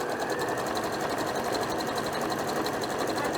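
A sewing machine stitches across the edge of a homemade reusable scrubbing pad, a fast steady mechanical whirr with rapid needle ticking, close and continuous throughout.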